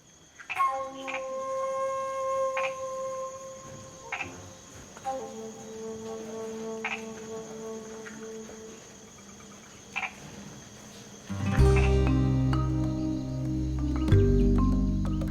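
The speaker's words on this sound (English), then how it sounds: "Also found here is the strawberry poison dart frog." Strawberry poison dart frogs call from a planted forest in repeated short bursts, with steady insect chirring beneath and a louder, denser chorus swelling near the end.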